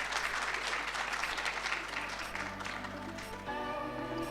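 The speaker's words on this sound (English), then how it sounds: "Can we please give a round of applause?" Audience at a national ICT summit applauding a panel moderator, a dense, steady round of clapping that fills the hall before thinning as a low hum and tonal sounds emerge near the end.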